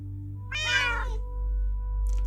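A house cat gives a single clear, close meow, followed by a faint second call near the end, over a steady low background hum.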